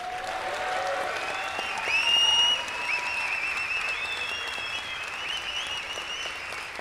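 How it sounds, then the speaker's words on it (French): Audience applause at a live show at the Cirque Électrique, a full crowd clapping steadily for the technical crew, with a few faint whistles and cheers rising over the clapping. "Je veux qu'on fasse un gros applaudissement à l'équipe technique."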